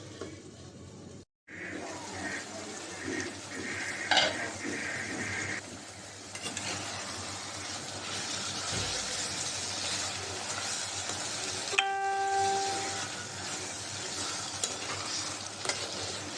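Mutton being braised with potatoes in a pan for a curry: a low continuous sizzle with spatula scrapes and stirring clinks, a brief silent gap near the start, steady and close throughout.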